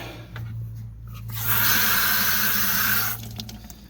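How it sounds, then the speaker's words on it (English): Water gushes from a garden hose, a steady, loud hiss that starts abruptly, runs for about a second and a half close by, then cuts off, with quieter handling sounds before and after. "So I'm going to turn on my hose here."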